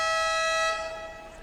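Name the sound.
loud horn signaling the start of a basketball game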